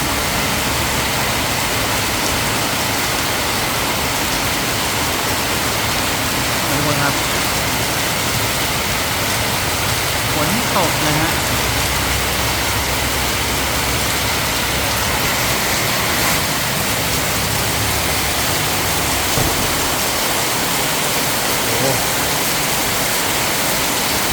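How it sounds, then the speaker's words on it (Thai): Heavy rain pours down in Kanchanaburi, Thailand, in a steady, dense roar of broadband hiss that never lets up, with no voices. "ฝนตกหนักอีกแล้วทุกคน"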